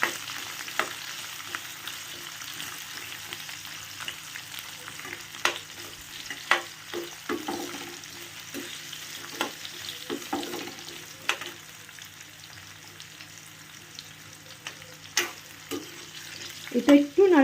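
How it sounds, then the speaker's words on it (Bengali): Poppy seed paste fries gently in a pan over a low flame while a spoon stirs it, producing soft continuous sizzling broken by irregular scraping knocks, with a few louder clanks near the end. "একটু জাস্ট এটাকে নাড়াচাড়া করো।"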